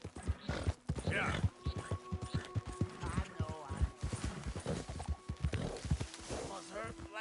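Horse hooves clip-clop in an irregular walking rhythm in Red Dead Redemption 2, close and fairly loud, under someone talking and game background sounds.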